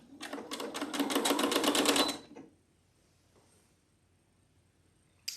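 Sewing machine running a seam on quilt backing, a fast rhythmic stitching burst for about two seconds, close and loud, stopping abruptly into near silence.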